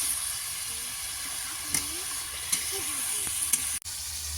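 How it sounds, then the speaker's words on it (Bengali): A spice paste with turmeric powder and salt is stir-fried in oil for a catfish curry, giving a steady sizzle and hiss with a few faint scraping stirs, close and alone. "এটাকে আমি খুব ভালো করে কষাতে থাকবো যতক্ষণ না এর মধ্যে থেকে তেল ছাড়ে।"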